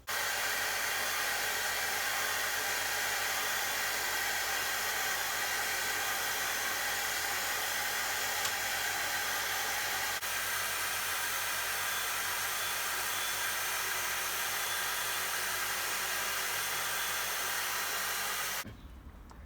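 An AC125BDS belt and disc sander sands a 45 degree mitre with a steady, close whirring hiss that runs unbroken, then cuts off abruptly near the end.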